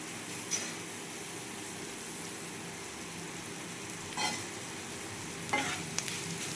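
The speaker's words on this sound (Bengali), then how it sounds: "খুব ভালোভাবে সবজির সাথে আমি সুজিটা মিশিয়ে দেবো।" Roasted semolina being stirred into vegetables in a frying pan, giving a steady soft sizzle and scraping texture with a few brief louder stirring scrapes near the start and end, no talking.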